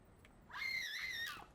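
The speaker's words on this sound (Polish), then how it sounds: "Ktoś krzyknął. A to tylko na mnie. Baba tak zareagowała." A woman in The Precinct video game lets out a single sharp, high scream lasting about a second, fairly close against a quiet background.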